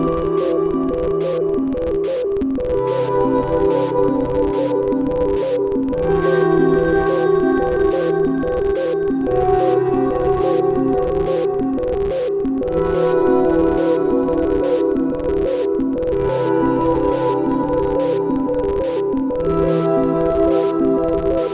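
A harp runs through fuzzy effects pedals, a Von Gogh onset and an unusual EAS, over a steady Game Boy MIDI drum beat. The sound is a dense, buzzing, rhythmic texture with regular clicking hits.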